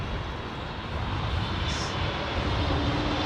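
Airliner in special livery on approach to London Heathrow runway 27R, a fairly quiet, steady engine rumble that swells slightly as it nears, heard at a distance without talk.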